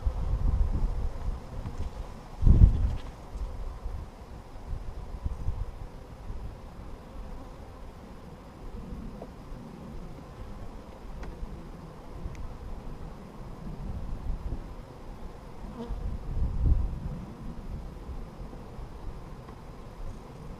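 A low, steady buzz from many honeybees around a hive frame in midwinter, constant throughout with a couple of brief louder bumps, close to the microphone.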